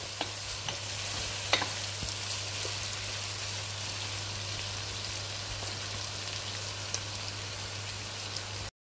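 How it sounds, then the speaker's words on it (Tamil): Onions sauté in a pan for a Jaffna-style mutton curry, giving a steady, quiet sizzle throughout with a few scraping taps of stirring, a low hum underneath and no talk. "இது பொன்னிறமாகும் வரைக்கும் நாங்கள் இதை வதங்க விட போகிறோம்."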